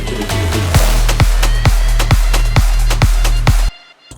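Big room techno second intro sections layered together, a pounding four-on-the-floor kick with heavy bass and bright synth layers, loud and steady before cutting off abruptly near the end.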